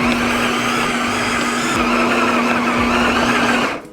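A Ninja all-in-one blender mixes dough with its lid on, giving a loud, steady whirring motor drone throughout that cuts off abruptly at the end.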